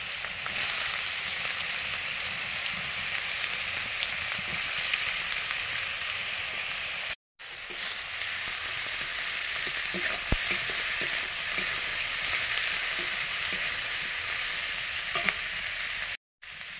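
Chopped onion and whole cumin seeds frying in oil for a chicken curry, a dense, steady sizzle with stirring scrapes and a few sharp spatula knocks, close and uninterrupted apart from two brief dropouts.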